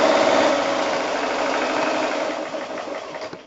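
Fast, steady mechanical whir of a sewing machine stitching a quarter inch seam, loud and close at first, then easing slightly and slowing toward the end.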